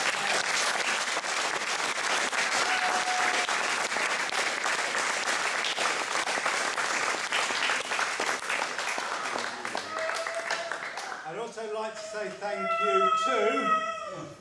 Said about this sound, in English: So a round of applause for the Treloar.